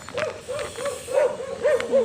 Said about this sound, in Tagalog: Tinatahulan ako ng aso.